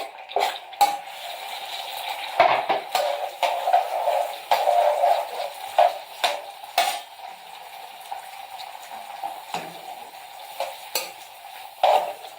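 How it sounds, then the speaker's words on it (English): Peppers and onion fry over high heat in about half a cup of oil, a close, bright sizzle broken by repeated clinks and scrapes of a utensil stirring against the pan. "Put those in on a high heat, this is, with about half a cup of oil in the pan."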